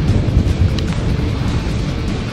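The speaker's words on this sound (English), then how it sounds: "Thunder rumbling now." Deep thunder rumbling through a squall line storm, a low continuous roll close by with wind buffeting the microphone.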